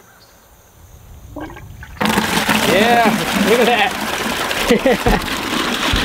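A rain cannon gushes water into a bucket, a loud, steady rushing splash that starts suddenly after a quiet lead-in while someone speaks briefly over it.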